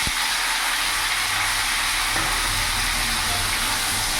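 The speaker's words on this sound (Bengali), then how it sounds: "ফোড়নটা ভাজা হয়ে গেছে, তার সাথে এখানে সব সবজিগুলো আমি দিয়ে দেবো।" Mixed vegetables hit hot oil with a panch phoron and dried red chilli tempering, producing a loud, close, continuous hiss and sizzle that holds steady with no voices.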